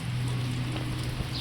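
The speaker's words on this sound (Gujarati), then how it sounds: "વરસાદ આવ્યો સવારે, રાતે આવી ગયો તો 10 વાગે, અત્યારે વધારે થઈ ગયો ચાલુ" Steady rain falling during a rainy morning at a rural home with buffaloes, a continuous soft patter and hiss with a low steady hum beneath, no voices.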